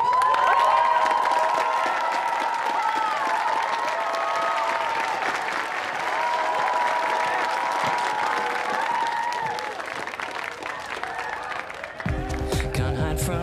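An audience applauds and cheers a band at a concert in an animated show, a sustained wash of clapping and shouts that fades before music starts abruptly at the end.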